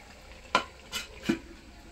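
A spatula scrapes and stirs small fish in a sizzling pan, three short strokes spaced apart over a low, steady frying hiss.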